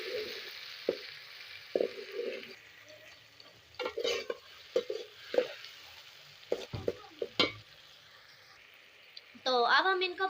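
Chilies and tomatoes fry and are stirred in a pan for aloo keema, a steady low sizzle beneath a speaking voice, with intermittent scraping stir strokes and clinks of a utensil against the pan.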